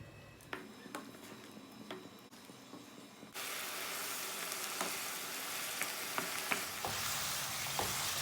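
Beef sizzles and fries in a kadhai on a stove with no oil or ghee as its water cooks off, a steady close hiss that swells loudly partway through, with occasional clicks of stirring.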